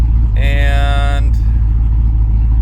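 A warmed-up GMC truck engine idles loudly and steadily, with a brief rising rev early on that settles back into the constant low rumble.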